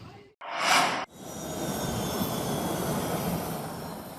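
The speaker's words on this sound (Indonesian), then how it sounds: "Presiden Prabowo Subianto pada hari Minggu tiba di Bandara Mopah, Merauke, Papua Selatan menggunakan pesawat kepresidenan." Presidential aircraft at Mopah Airport in Merauke, South Papua, its engines producing a steady, loud jet roar that holds for several seconds after a short burst of noise.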